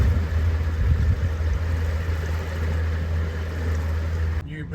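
A river boat's engine cruises steadily at about 2400 revs on the Murray River, a loud continuous low drone with water noise that holds until it drops away abruptly near the end.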